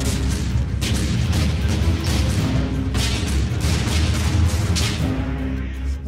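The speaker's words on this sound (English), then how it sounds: "a sea of fire, constant shooting, constant explosions" Heavy artillery fire and explosions from the Battle of Kursk pound continuously, booms and bursts overlapping into a dense, loud barrage with no pause.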